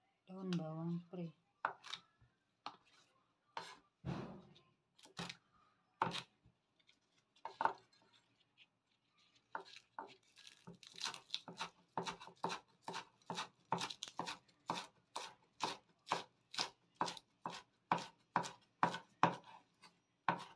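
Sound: knife chopping leek on a cutting board

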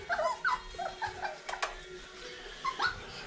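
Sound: puppies whimpering and yipping

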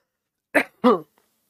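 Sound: cough

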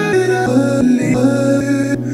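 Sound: sampled chops on their own, without auto pan

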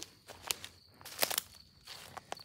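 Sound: footsteps at night in a cemetery

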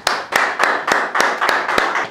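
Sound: applause

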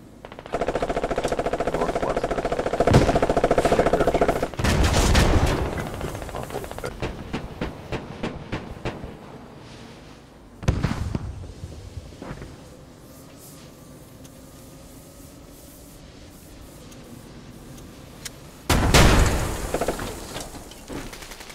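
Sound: machine gun shooting in video game Squad

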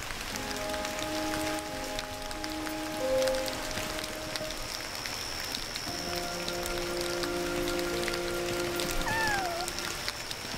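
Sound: cat sounds in the video game Yonder

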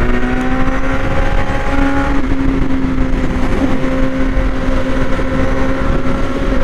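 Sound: Suzuki Gixxer 650F motorcycle engine

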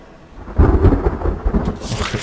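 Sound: thunderstorm in the video game The Forest

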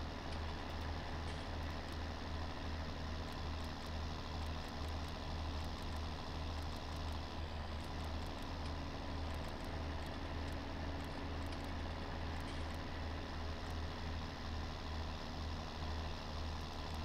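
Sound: vehicle driving in the video game Farming Simulator 19

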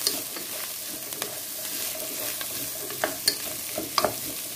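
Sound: flour frying and stirring in pot

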